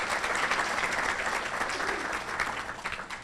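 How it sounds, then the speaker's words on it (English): Applause at a luncheon gathering: a full room claps steadily and densely for the whole stretch, even and fairly close, with no voices above it. "would you please stand for a round of applause"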